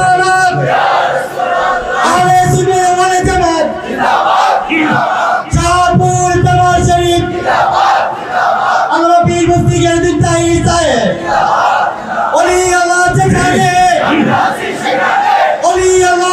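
A large religious rally crowd in Comilla roars back in unison to a Nara-e Takbir call, repeated loud chanted shouts in a steady call-and-response rhythm filling the whole stretch, massed voices near and powerful.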